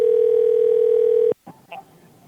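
A steady telephone dial tone hums loudly for over a second during a call, then cuts off abruptly, followed by faint clicks and brief line noise.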